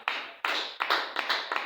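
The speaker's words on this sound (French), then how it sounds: "Acclamons la parole de Jésus." A church congregation claps during a service, five or six brief bursts of applause in quick succession, fairly faint and without speech.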